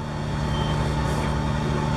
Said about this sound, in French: j'essaye de faire route au moteur.